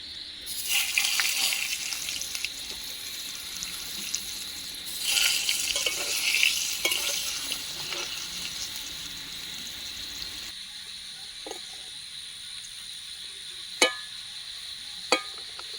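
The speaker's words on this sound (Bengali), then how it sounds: "এই যে দেখুন আলুগুলো লাল লাল করে ভেজে নিয়েছি" Potatoes frying in a pan, a moderate sizzle with stirring that fades partway, followed by quieter kitchen sounds and a couple of sharp clinks near the end.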